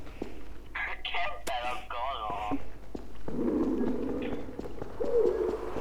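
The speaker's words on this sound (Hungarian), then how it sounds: "Találtam egy galambot!" Pigeon cooing in the Nico's Nextbots video game, a pair of low warbling coos in the latter half, following excited speech from players.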